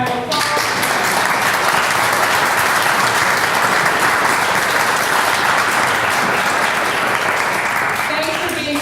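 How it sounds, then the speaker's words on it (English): A large audience at a design panel discussion on accessibility claps in a sustained, dense round of applause that stays loud and steady throughout, with no pauses. "So can we give a huge round of applause?"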